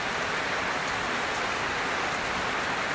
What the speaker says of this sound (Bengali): কি সুন্দর বৃষ্টি হইতাছে